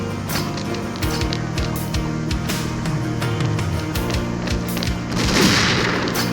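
Rapid gunfire rattles in the online shooter XShot, with repeated sharp shots, then a grenade blast booms near the end. Loud and close throughout, with no speech over it.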